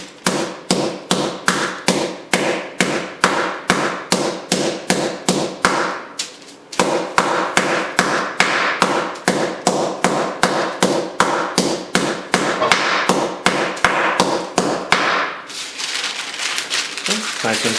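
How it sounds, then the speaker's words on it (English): A hammer pounds smoked salmon laid under parchment paper, a fast steady run of sharp close thuds, roughly two or three per second, with a brief pause partway through before the strikes resume. "This, of course, is my hammer."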